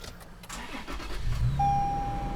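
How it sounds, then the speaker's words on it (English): A Toyota Tacoma started with push-button ignition: a short crank that catches and settles into a low, close idle, with a thin electronic chime sounding over it. "So I'm going to go ahead here and press the ignition."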